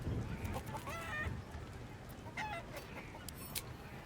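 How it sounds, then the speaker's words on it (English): A chicken in the video game Baldur's Gate 3 clucks in short bursts, fairly close, over a noisy background with some faint voice. "You just gotta chase the chicken round the course and through the posts."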